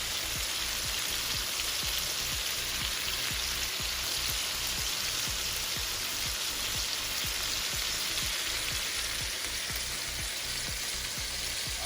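Meatballs browning in a hot pan with wine added, giving a loud, steady sizzle and crackle of frying that fills the whole stretch without pause, with no voices.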